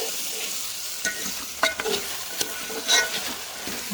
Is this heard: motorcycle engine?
no